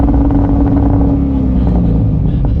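A C6 Corvette engine on 2-step launch control holds a loud, steady, rough rev with a crackling low drone right up close, no voices over it.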